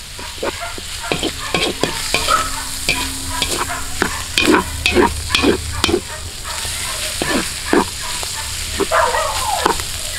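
Lechon sisig being stirred in a pan outdoors, with repeated scraping strokes over a steady, close, loud sizzle of frying butter and meat, in an irregular rhythm throughout.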